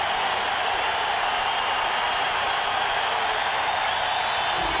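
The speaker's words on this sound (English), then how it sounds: "The crowd is loud." A dense, roaring wash of crowd noise fills Mile High Stadium at a 49ers vs Broncos NFL game, continuous, steady and loud.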